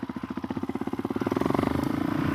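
Suzuki DRZ 470 dirt bike engine fitted with an FCR 39 carburetor, in second gear at zero throttle: a steady, close single-cylinder thump whose pulses quicken and blur together as the revs climb, with no talk over it.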